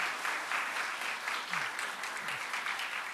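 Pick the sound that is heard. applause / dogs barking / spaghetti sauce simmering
applause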